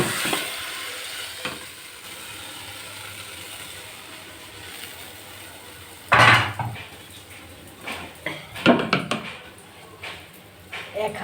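Katla fish tipped from a frying pan into a kadai, with scraping clatter and a burst of hot sizzle at mid-clip and another cluster a couple of seconds later over a low steady hiss of cooking.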